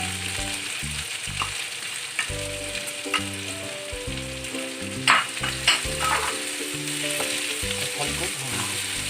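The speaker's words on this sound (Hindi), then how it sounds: "कटहल को भूनूंगी।" Steamed jackfruit fries with ginger and garlic in a pan for kathal kabuli chana biryani. A steady sizzle runs throughout, with a few sharper scraping stirs, over soft background music.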